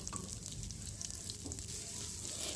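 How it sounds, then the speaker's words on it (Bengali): Soft, steady sizzling of onion, green chilli and garlic frying in hot mustard oil, a continuous crackling hiss with occasional faint stirring. "পেঁয়াজ কাঁচা লঙ্কা রসুন কুচিটা ভালো করে ভেজে নেব"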